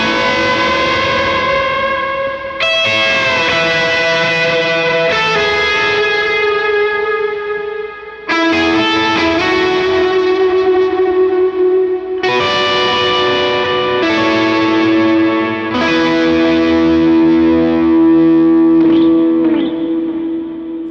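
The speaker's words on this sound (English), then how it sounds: "A lot of distortion, a lot of effects to really, draw that sound out and make it sound nasty." Electric guitar with heavy distortion and layered effects plays the chorus part of a song, loud sustained chords changing every few seconds with a long reverb and echo tail, alone with no voice.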